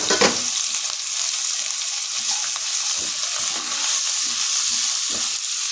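Capsicum and spices for spinach rice fry in a pan with a dense, steady sizzle, broken by brief scraping stir strokes at irregular intervals, close up and without talk.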